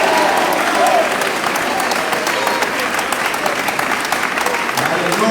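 A church congregation applauds steadily and fairly close, a dense continuous clatter of clapping hands that holds through to the end with no talk above it.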